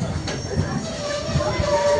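A passenger train pulling into Barpeta Road station rumbles loudly and close, with a thin, sustained metallic squeal over the low rolling noise of the carriages.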